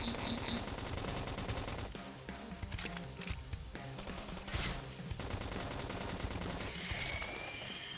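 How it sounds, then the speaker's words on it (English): Bursts of rapid machine-gun fire and scattered shots ring out in the video game Xenoblade Chronicles X, layered over game music and effects, fairly quiet overall. "Topple them. Gunfire."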